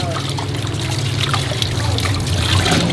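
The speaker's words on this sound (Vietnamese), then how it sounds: "Rửa nước nữa, nếu mà nó chưa sạch." Running water trickles steadily as food is rinsed at a Hanoi bún mọc eatery, a continuous close splashing stream with people talking over it.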